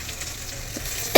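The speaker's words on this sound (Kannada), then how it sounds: "ಇದು ಚೆನ್ನಾಗಿ ಫ್ರೈ ಆಗಿದೆ ನೋಡಿ, ಚೆನ್ನಾಗಿ ಫ್ರೈ ಆಗಿದೆ ಅಲ್ವಾ?" Chili chicken fries in a home kitchen pan with a soft continuous sizzle, ending in a sudden louder burst of spattering or stirring near the close.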